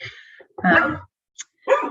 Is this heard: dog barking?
yes